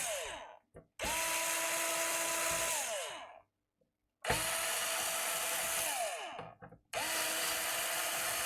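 A power screwdriver whirs in three sustained bursts, each a few seconds long with brief pauses between, as it backs screws out; close and loud.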